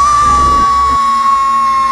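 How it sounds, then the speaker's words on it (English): Character screaming in the Psychonauts video game: one long, loud, steady-pitched scream held for about two seconds over low game background sound, with nothing else audible. "Why are you screaming?"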